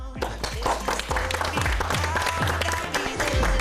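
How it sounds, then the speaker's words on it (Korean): Applause from a crowd at a startup survival competition show, with scattered sharp claps and voices mixed in, loud and sustained throughout. "끝까지 조언을 아끼지 않은 5명의 심사위원과 또 경합에 참여한 팀 모두에게 큰 박수를 드리고 싶습니다."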